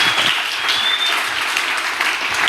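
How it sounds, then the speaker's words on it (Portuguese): A church congregation applauding together, a dense, steady wash of clapping that carries on throughout without a break. "Pode aplaudir, é isso aí."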